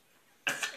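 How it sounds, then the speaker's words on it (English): A young child clears his throat once, a short, close, broadband rasp that starts abruptly after near silence and carries on for a moment with a second push. "Are you finished clearing your throat?"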